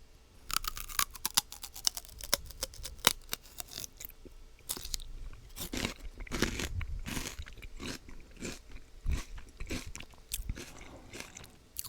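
Crisp, wet crunches of someone biting and chewing raw celery dipped in chili garlic sauce, close and intimate, with rapid irregular bites and chewing filling the stretch without talk.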